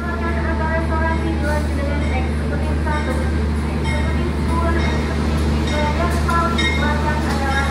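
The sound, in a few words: Kertanegara passenger train arriving at station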